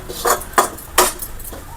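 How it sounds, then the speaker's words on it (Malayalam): A metal ladle scrapes and knocks against a pan while ghee-fried sago and beetroot for payasam are lifted out, making three or four distinct clinks and scrapes at close range with no talking. "എല്ലാം കോരി എടുത്ത് മാറ്റാം."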